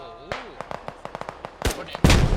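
Gunfire in the military shooter game Squad: a rapid series of sharp shots in quick irregular bursts, followed by two louder, heavier blasts near the end, with a voice speaking underneath at the start.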